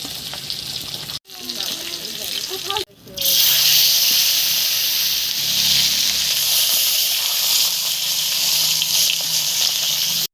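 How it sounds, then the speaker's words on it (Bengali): Running tap water pours steadily over cut green plantains being washed in a kitchen, a loud, continuous hiss and splash that briefly stops twice before flowing on without a break. "কলার যে আটাটা সেটা ধুয়ে নেব"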